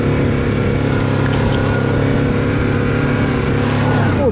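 ATVs, including a CFmoto X4, Yamaha Grizzly 700 and Polaris RZR 800, drone loudly as they drive past through mud, a sustained engine roar close by without letup.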